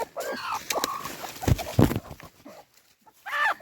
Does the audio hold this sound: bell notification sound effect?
no